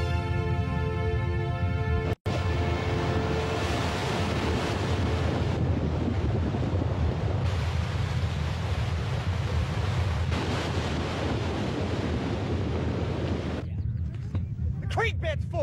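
Water from a river rushes into a dry creek bed in an animated tall tale, a loud, continuous surging roar with a sharp click near the start.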